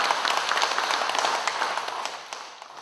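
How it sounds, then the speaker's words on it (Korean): A church congregation claps after a worship song during a service, a short burst of dense applause that is loud at first and gradually thins and fades. "우리 하나님께 영광의 박수 올리겠습니다."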